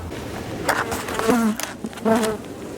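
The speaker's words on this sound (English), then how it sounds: "Whoa, there's a lot of bees." Dense buzzing of many honeybees in a hive fills the air, close and steady, with individual wingbeats rising and falling over the colony's hum.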